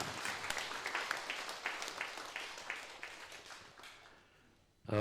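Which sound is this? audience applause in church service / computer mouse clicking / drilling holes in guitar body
audience applause in church service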